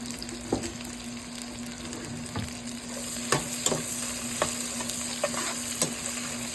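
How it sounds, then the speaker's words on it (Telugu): Long-cut and short-cut onion pieces sizzle steadily in a pan for vegetable noodles, with a spoon scraping and stirring in soft intermittent strokes over the constant frying hiss. "ఇవి వేగనిద్దాం."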